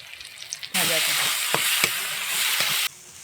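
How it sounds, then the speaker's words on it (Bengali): Chili powder with ground roasted coriander and cumin hits a hot pan for Bengali potato dum and bursts into loud, steady sizzling for about two seconds, with a few sharp crackles and scrapes, after near-silence. "দিয়ে মশলাটা ভালো করে কষে নেব"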